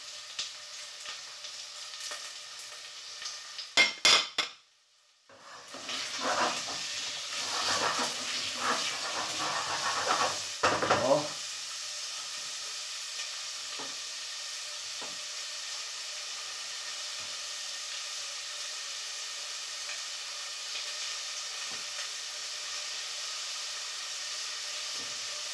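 Sausage for a goulash browns with onions in a pot, giving a steady frying sizzle and hiss throughout. A few sharp clatters and a louder burst of bubbling come early on, then a softer, even sizzle continues alone.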